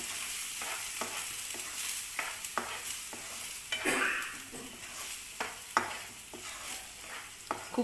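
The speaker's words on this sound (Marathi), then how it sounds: "ग्रेव्ही घालून पुन्हा 1-2 मिनिटांसाठी हे परतायचंय." Kerala-style kala chana curry with gravy is stir-fried in a pan: close, repeated spoon scrapes and knocks against the pan over a soft, continuous sizzle.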